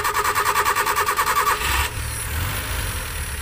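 Mitsubishi Colt car engine cranks with a rapid rhythmic starter chug, then catches and settles into a low, steady idle.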